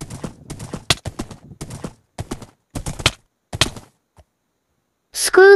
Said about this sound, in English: Horse really kinda fast.